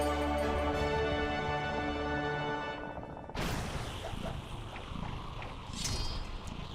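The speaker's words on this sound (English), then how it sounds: "He roared so loud that the volcano decided to stop being hot." A monstrous Goron boss roars in Twilight Princess: a loud, crashing roar cuts in suddenly over a sustained musical tone and growls on raggedly to the end.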